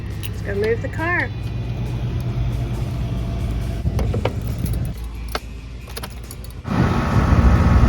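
A car idles and rolls slowly as it is moved near an RV, a low steady engine rumble close by under brief talk, with a few clinks and bumps before the engine swells louder at the end.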